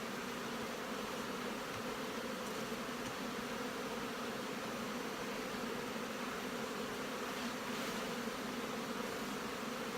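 Honey bees buzz steadily over open brood frames during queen rearing, a dense continuous hum with no talk, close and even throughout.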